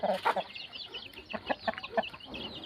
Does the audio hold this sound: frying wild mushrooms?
no